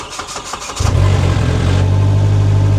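An electric Rivian R1T pickup bought from a salvage auction powers up: a few soft clicks, then a steady close hum of motors and fans starting and continuing to run on its own.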